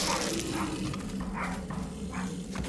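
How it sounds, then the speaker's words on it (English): A pet dog barks in a house, several muffled barks spaced across a couple of seconds under a steady background hum, with no talk during them. "My dog wants to be on the quick look as well."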